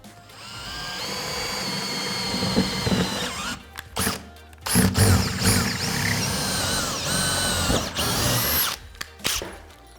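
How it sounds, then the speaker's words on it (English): A power drill whirs loudly in several bursts, stopping and restarting with brief pauses and small clicks between runs, close by. "we'll go ahead and mark our holes and drill them out"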